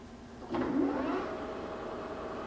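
A 17-inch by 50-inch Okuma engine lathe shifts into high range, a brief clunk followed by a smooth, quiet mechanical whir that swells then settles into a steady low hum.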